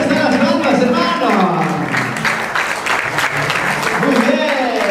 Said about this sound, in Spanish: ¿Dónde están las palmas, hermano?